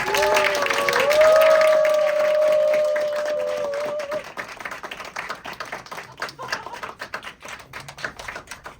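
An audience greets the start of a dramatic reading of Mandragola with a sustained shout of cheering, followed by several seconds of brisk, crackling applause that gradually thins out.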